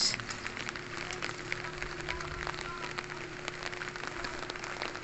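Steady rain falls outdoors among garden plants, a dense even patter of drops close by with brief louder taps, no talk over it.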